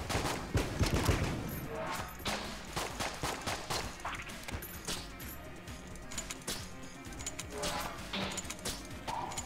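Rapid gunfire from the video game Enter the Gungeon, dense volleys of shots and impacts crackling through the whole stretch, loud and busy with game effects and no voice over it.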